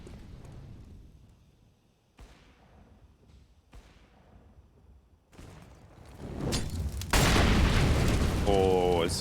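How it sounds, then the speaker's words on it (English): A Counter-Strike incendiary grenade erupts on Dust2: a few dull thuds and quiet game ambience build into a loud roaring burst of flames that keeps crackling and hissing to the end, under faint background talk. "it's Incendiary deep in towards the tunnels"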